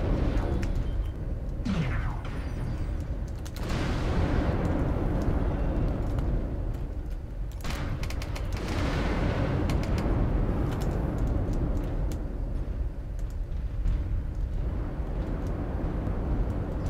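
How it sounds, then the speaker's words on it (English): Missiles launching and striking targets in the Kill Kitchen video game: a continuous loud jet-like roar broken by several whooshing launches and heavy booming impacts across roughly seventeen seconds. "Those missiles were hitting."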